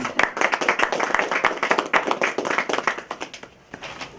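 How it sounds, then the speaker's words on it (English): Audience at a ribbon cutting for a cupcake business claps loudly and close by. Individual sharp hand claps stand out in an uneven rhythm, then thin out and fade near the end. "I think that deserves a round of applause."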